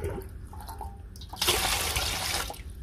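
Water is poured into rice flour for a village-style rice-flour dish, heard as a brief close splashing rush lasting about a second between quieter handling sounds.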